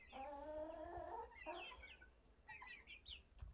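Chickens on a farm clucking and squawking in a few short, faint bursts, close by, with no talk over them.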